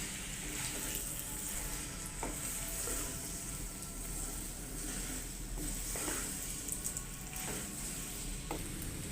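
Boiled pasta is stirred in a pan of cheesy, creamy sauce over sizzling heat, with a continuous close fry-and-sizzle and faint scraping stir strokes recurring throughout.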